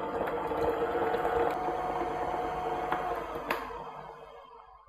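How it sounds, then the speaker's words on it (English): An electric mixer whirs steadily at medium to high speed while beating vanilla buttercream frosting, with a continuous close churning hum and a few light clicks, then it tapers off and stops near the end. "So we'll start mixing and mix it on about medium to high speed"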